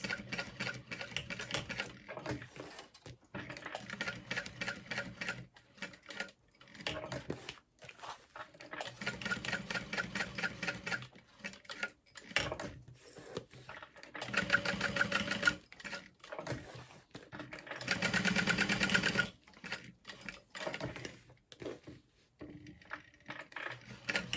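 A sewing machine stitches down the box of a large handbag in close bursts of rapid needle chatter, broken by short pauses and a brief quiet spell, with no voices.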